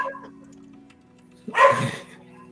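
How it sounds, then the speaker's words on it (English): A dog barks excitedly in a single short burst after a stretch of quiet low hum, loud and close. "Dog is very excited."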